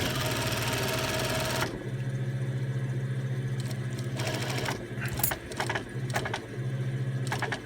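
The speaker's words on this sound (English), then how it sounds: "Put the foot down again and then you just stitch over that and continue all the way" A sewing machine stitches a bag pocket with a loud, fast, close mechanical whir that briefly stops and then resumes with lighter rattles and small clicks from handling, over a steady low hum. No voices.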